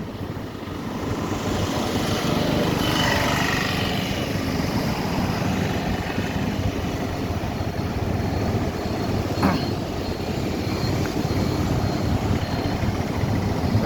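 Vehicles creep slowly along a river embankment road in dense morning fog in Cuttack, heard from a moving bike as a continuous rumbling engine drone with steady low noise and no break.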